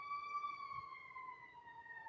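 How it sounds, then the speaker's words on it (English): A distant emergency siren wails steadily in the background, faint and drawn out, with no talk over it. "I'm sorry about the siren in the background"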